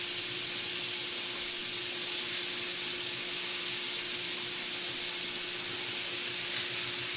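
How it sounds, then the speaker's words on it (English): Ground beef browns and sears in a pan, making a steady, even hiss of moderate loudness with no speech over it. "I'm just gonna put that in there and let it start browning and searing that off."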